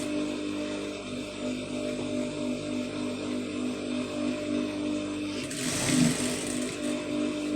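A sewing machine stitching piping onto a blouse hums and whirs in a steady, close, continuous run, with a louder rattling burst near the end.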